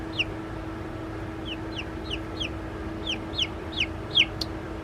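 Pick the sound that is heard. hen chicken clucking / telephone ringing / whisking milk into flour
hen chicken clucking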